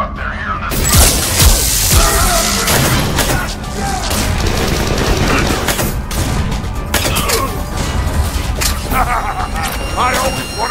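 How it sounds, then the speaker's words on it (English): Sustained gunfire and explosions during a firefight in the CIC of a starship in the video game Mass Effect 3, dense rapid shots and booms throughout, loud and continuous with voices and game effects mixed in. "You always wanted to have a firefight on the CIC of my ship?"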